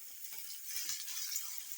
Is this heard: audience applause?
no